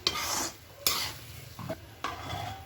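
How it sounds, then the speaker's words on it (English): Vegetables being stirred with masala in a hot pan for pao bhaji, with a soft sizzle under repeated scraping strokes of a utensil against the pan, about four distinct stirs, close and fairly quiet. "So we'll add our vegetables to this. We'll mix the vegetables with the masala"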